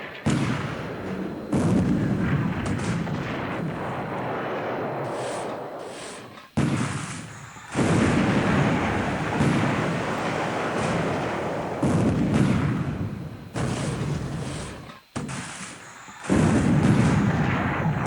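Torpedo and 5-inch gun hits striking destroyers and a light cruiser in a War in the Pacific: AE naval battle, a run of loud booming blasts and rumbling impacts, one after another with short gaps, no talking.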